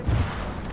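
A .50-caliber machine gun fires sporadically in Arma 3, a few low booming bursts in the first moments followed by a steady rumbling backdrop, distant rather than close.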